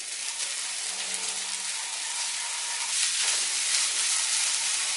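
Green chilies hit hot oil in a pan while sabudana khichdi is being cooked, giving a steady, bright frying hiss that swells slightly louder midway and continues alone.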